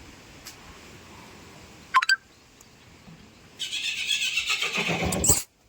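Rajlakshmi, a newly bought mare at a farm, gives a loud, close whinny of rising squeals lasting about two seconds near the end, after a quiet stretch broken by a brief sharp click.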